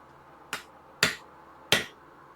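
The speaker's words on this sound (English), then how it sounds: "I know that you can't see the hammer blows specifically" Hammer blows on hot steel while forging a spatula, three sharp, bright metallic strikes spaced unevenly and ringing briefly, heard alone against a quiet workshop hum.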